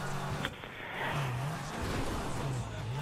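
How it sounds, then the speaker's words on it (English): GTA V car climbing a hill, its engine a steady droning hum that wavers in pitch as it labors upward, mixed with road and wind noise, moderately loud and continuous with no talking. "Man, these cars are amazing to go up hills."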